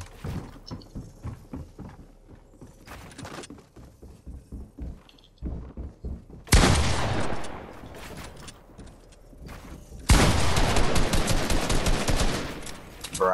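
Rapid bursts of gunfire from the video game Fortnite, sparse clicking shots at first, then two loud dense stretches of sustained fire, with no voices.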